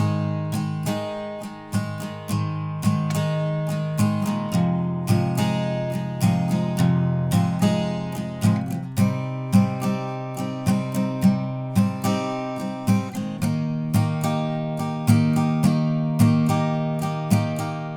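An acoustic guitar strums verse chords in a steady rhythmic pattern, close and clear, with repeated down-up strokes and chord changes throughout, no voices.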